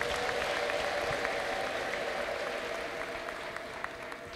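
A church congregation applauds in praise of the Lord, a steady soft wash of clapping with a sustained high tone that may be ululation, fairly faint and tapering slightly toward the end.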